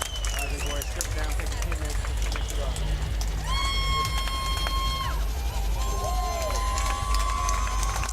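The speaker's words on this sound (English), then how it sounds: "I would say about half the crowd is cheering for Josh Reed tonight" A fight crowd roars and cheers as a local fighter walks to the cage at an amateur MMA event, dense continuous crowd noise with whistles and shouts, loud and close throughout.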